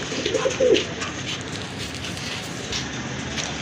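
Pigeons kept for sale, including colourful fancy breeds, give a soft close coo early on, followed by a steady murmur of flock sound with no speech.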